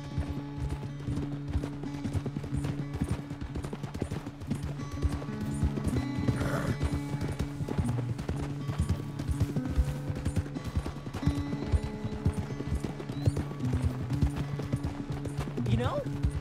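Horse hooves clip-clop at a steady trotting rhythm in the Red Dead Redemption 2 video game, close and continuous, with a brief whinny and characters talking over the riding.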